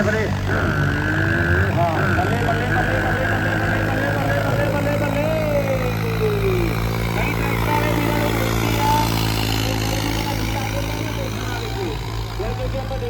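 A New Holland tractor engine chugs steadily and loudly throughout while pulling a loaded trolley around a turn, its pitch shifting slightly as it labors, with faint voices in the background.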